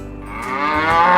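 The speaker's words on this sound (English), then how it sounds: "This is a cow." A cow moos once, close and loud, a long drawn-out low call that swells steadily in volume over about a second, with no talk over it.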